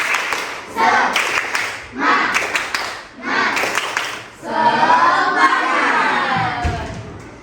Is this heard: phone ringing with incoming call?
no